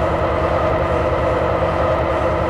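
A Guiyang Subway Line 1 train in the Hmmsim2 simulator runs at speed, a loud continuous rumble with rhythmic low wheel clatter and a steady whine filling the cabin throughout.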